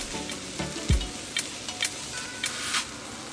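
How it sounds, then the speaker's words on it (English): Three large onions frying and browning in oil in a stew pot, a steady close sizzle with a few soft scraping stirs and light crackles, no talking. "Just as the onions start browning, I add the meat"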